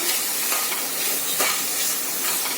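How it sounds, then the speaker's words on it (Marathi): Paneer lightly frying in oil gives a steady, close, bright sizzle with a few faint stirring scrapes throughout. "एकदम लाईट फ्राय हा लाईट फ्राय करून घ्यायचे"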